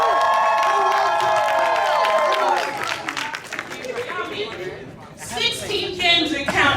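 A DreamCon panel audience cheers and claps for Kingdom Hearts in a loud, dense crowd roar. Voices and tonal sound come through early, then the cheering surges again near the end.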